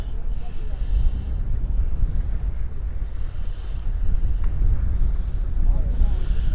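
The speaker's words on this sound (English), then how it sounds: "It's a very windy day today." Steady wind roars and buffets against the microphone on a cold lake shoreline, a constant low rumble with gusty swells throughout.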